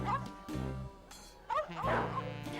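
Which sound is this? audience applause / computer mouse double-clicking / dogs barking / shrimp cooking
dogs barking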